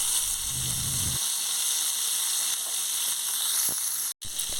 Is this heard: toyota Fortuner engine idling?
no